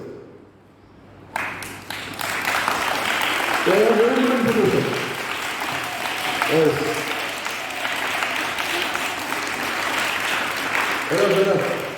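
Audience applause at a student motivation and orientation session for IIT/NEET CBSE students: a sustained wash of clapping through most of the clip, with a few short spoken phrases breaking through it.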